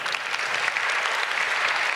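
An audience at a comic book award ceremony claps steadily, a dense, even wash of applause from many hands with no talking.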